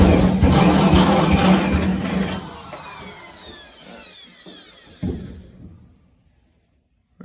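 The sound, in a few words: step drill boring a half-inch hole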